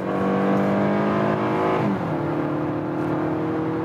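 A 2020 Hyundai Santa Fe with a naturally aspirated engine accelerates hard from 70 to 100 km/h, its engine note loud and close, climbing steadily then dropping after a gear change near the midpoint, with no talk over it.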